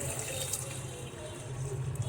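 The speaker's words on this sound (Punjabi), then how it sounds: "ਤੇ ਪਤੀਲੇ ਦੇ ਵਿੱਚ ਅਸੀਂ ਪਾਣੀ ਪਾ ਦਵਾਂਗੇ" Water pours into a cooking pot holding potatoes and peas, a soft continuous splashing stream, fairly quiet and close, with no talking.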